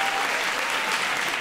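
A hall audience applauds steadily, a dense wash of clapping hands that fills the whole moment without pause, with no voices standing out.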